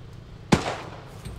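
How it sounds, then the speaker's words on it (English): Gunfire in the video game Hell Let Loose: a single sharp crack rings out at moderate distance, leaving a brief echoing tail over quiet ambience. "getting shot at"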